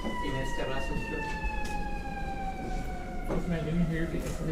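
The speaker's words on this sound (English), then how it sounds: "can you hear the ambulance?" An ambulance siren wails with a slowly falling tone as it passes outside a courtroom during a trial, moderately loud behind a low murmur of the room and faint voices.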